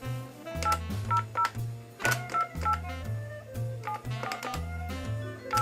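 Telephone keypad tones as a number is dialed, a steady sequence of short beeps in a regular rhythm, moderately loud with no talking over them.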